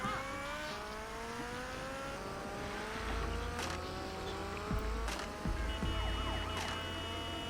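Wailing police siren in the video game GTA Vice City, rising and falling, moderately loud, mixed with engine rumble and a few sharp clicks.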